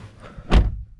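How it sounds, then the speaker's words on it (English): A 2013 Skoda Yeti car door swings shut with one solid, close thud, a brief single impact followed by quiet. "the door is fairly solid when you close it, all doors that is"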